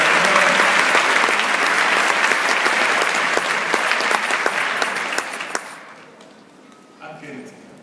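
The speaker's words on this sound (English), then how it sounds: "Let's give them all one big round of applause." A summit audience's applause fills the room as a thick, steady wash of clapping, then tapers off and fades out over the last couple of seconds, leaving a few scattered sounds.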